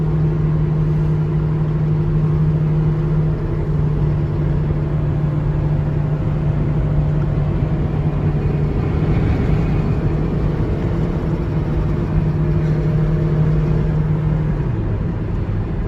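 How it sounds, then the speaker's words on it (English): A big truck drives just ahead on a highway through the San Rafael Swell, a steady engine drone with road rumble holding at an even loudness throughout, its low tone dipping slightly near the end. "we've got a big ugly truck in front of us"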